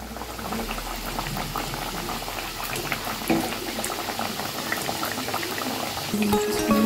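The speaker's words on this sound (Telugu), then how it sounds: "మీడియం ఫ్లేమ్లో అయితే వేయించుకోవాలండి. మీ కడాయికి తగ్గట్టు వేసుకోండి" Wheat flour biscuits fry in oil in a kadai over a medium flame, giving a steady, dense crackling sizzle that runs continuously, with a few brief bubbling pops near the end.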